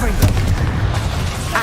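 Confringo fire-blast spell explosion in Hogwarts Legacy, a loud booming burst with heavy low rumble filling the whole moment amid chaotic combat noise, with a voice heard alongside.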